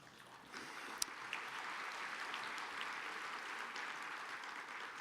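Sustained audience applause fills a hall during a political speech by Rep. Mark Meadows, a steady dense wash of clapping starting after a brief quieter moment and continuing evenly, with one sharp louder clap near the start.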